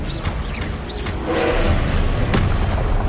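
An Expelliarmus spell cast in the video game Hogwarts Legacy during combat: a whooshing, booming burst that swells and holds over a few seconds amid other spell effects.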